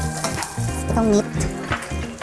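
Meat for kimchi jjigae sizzles in hot oil in a pan, a steady close frying hiss broken by scraping stirs and occasional utensil clinks against the pot.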